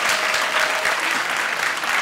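A comedy show crowd answers a call for vegetarians with a short burst of steady, dense applause, loud and close, holding evenly throughout without any voices on top.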